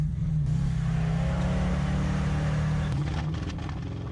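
A V8 car engine with a slightly clogged carburetor revs hard at full power, a loud, close, continuous roar that holds steady for the whole stretch and eases only slightly at the end.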